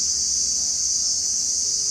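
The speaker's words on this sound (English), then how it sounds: "crickets are loud." Steady, dense insect trilling fills the air without pause, a continuous high buzz like crickets chirping close by.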